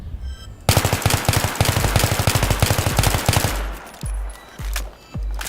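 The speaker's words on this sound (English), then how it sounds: "Burst firing, controlling the recoil on the M16A3 with the heavy barrel." Rapid close gunfire from an M16A3 with a heavy barrel in a video game, a dense stream of loud shots followed by a few separate bursts and pauses, with no talking over it.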